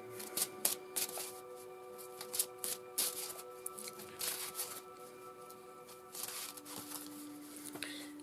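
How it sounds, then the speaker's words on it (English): Cards being shuffled in quick bursts of papery riffling and flicking, close up, with short pauses between shuffles over a faint steady hum. "Give one final little shuffle, and then we'll pick the card."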